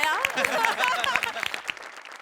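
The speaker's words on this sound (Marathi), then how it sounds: "गौऱ्यासाठी पण टाळ्या." Audience applause at a Marathi comedy show, individual claps audible within a moderate crowd, with speech-like tonal sounds mixed in over the clapping.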